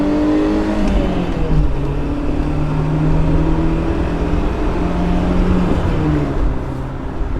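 A BMW E30 M3 engine revs steadily up and down through the gears, loud and close, with no voices over it.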